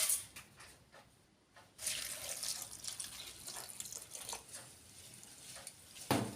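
Running tap water poured over red flattened rice (aval) to soak it, a steady broadband splash with a brief pause partway and a louder gush near the end, close by.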